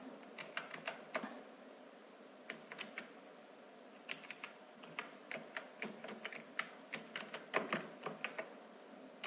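Computer keyboard typing while entering an Aadhaar number into a biodata form in MS Word, close and fairly quiet, in uneven bursts of quick key clicks with short pauses between.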